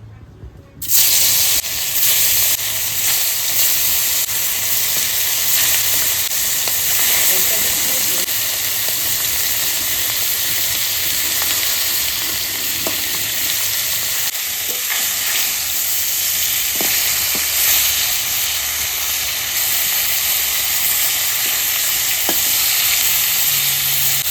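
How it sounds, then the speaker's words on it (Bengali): Pieces of snakehead fish fry in oil in a wok over a wood-fired clay stove, producing a loud, dense, close sizzle and hiss that holds steady throughout, with faint scraping now and then and no speech. "এবার মাছটা আমি ভেজে নেবো"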